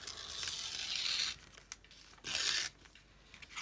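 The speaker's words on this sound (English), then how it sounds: "I'm going to use the vellum, and I'm actually just going to tear it. I like the way that vellum tears." Vellum paper torn by hand into a strip for a card craft, heard as two close, crisp tearing bursts separated by quiet pauses and small rustles.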